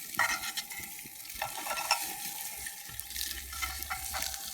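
Fish sizzles in a pan during outdoor cooking, a steady crackling hiss with faint stirring and scraping as tongs grip and wiggle it, close and continuous with a low hum beneath.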